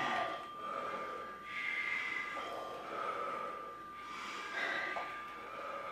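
Heavy rhythmic breathing during a standing abs workout with no equipment, a repeated cycle of deep snorting inhales and exhales about every second and a half, close and steady, with no talking.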